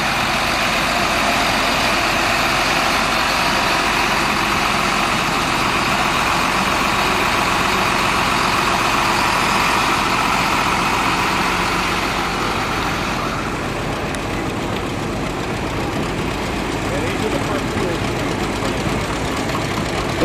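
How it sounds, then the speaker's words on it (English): A restored 1939 John Deere H antique tractor runs in a parade, its engine chugging steadily and loudly throughout, close by and alone without talk. "In the antique tractors, coming up first, Ed Solon, a 1939 H John Deere, restored by Jerry Hunt."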